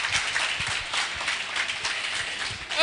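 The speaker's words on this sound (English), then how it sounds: "Please, a round of applause." Audience applause at a Christian youth forum in Abuja: dense, sustained clapping from a crowd, fairly loud and even from start to finish, with no talk over it.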